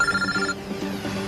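A mobile phone rings inside a car for about half a second, a steady electronic tone over the engine and road rumble, which carries on alone after the ring stops.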